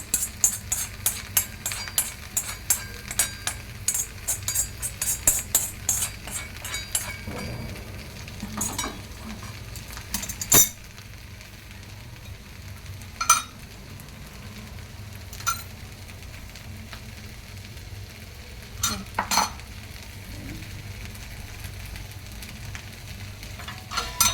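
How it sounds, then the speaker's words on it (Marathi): Dry fruits frying in ghee in a kadhai, a soft low sizzle broken by repeated sharp clicks and scrapes of a spoon stirring against the pan, close and without talk. "कढईमध्ये जे बाकीचे ड्रायफ्रूट्स ठेवलेत तुपासकट त्याच्यामध्ये आपण टाकूया"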